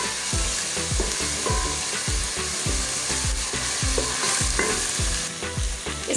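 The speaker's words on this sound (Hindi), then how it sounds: "इसके बाद हम इसमें शामिल कर देंगे लहसुन का पेस्ट और इसको भी अच्छे तरीके से भून लेंगे।" Garlic paste fries with browned onions for a Lahori chickpea curry, a steady sizzle cut by rhythmic stirring scrapes of a spoon in the pan, close and continuous with no voices.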